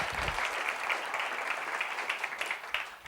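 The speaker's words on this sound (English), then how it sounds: "Let's give her a big round of applause." A lecture audience breaks into applause, a dense wash of many hands clapping at close range that carries evenly for a few seconds, with a few sharper claps near the end.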